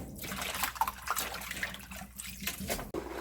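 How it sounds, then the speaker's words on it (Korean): Salted young radish and napa cabbage rinsed by hand in water, with soft splashing, trickling and sloshing at close range, fairly quiet and unsteady. "한 번만 헹궈 낼게요. 한 번만 살짝 헹궈 줍니다."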